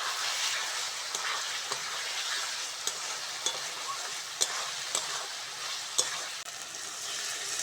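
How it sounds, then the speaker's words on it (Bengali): Spice masala fried in oil for a Bengali soya bora curry sizzles steadily in the pan after water goes in, a broad hiss with scattered sharp pops and crackles, close and moderately loud, no voices. "মশলা থেকে তেল ছেড়ে দিয়েছি এইবার জল দিয়ে দেব"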